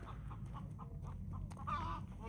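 A rooster crows once near the end in a farmyard kept with pigs and chickens as night falls, after a run of soft clucking pulses over a steady low rumble.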